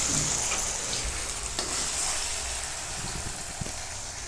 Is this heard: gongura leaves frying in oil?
yes